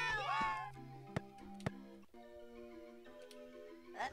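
A cartoon cat meows in the Baby Felix Tennis video game, one short call at the start, followed by light ticking blips and sustained electronic game tones.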